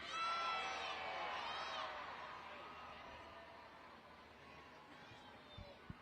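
An arena crowd at a Monster Jam event shouts an answer in unison, a loud mass of voices that swells at the start and then fades away over several seconds into scattered calls.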